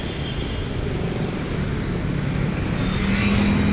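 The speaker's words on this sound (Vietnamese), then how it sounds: "xe buýt" A bus passes on a road beside rice fields in Vietnam, a steady, fairly loud engine rumble and road roar that holds throughout and swells slightly toward the end.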